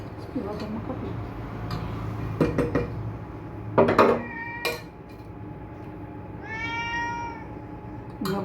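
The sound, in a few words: cat meowing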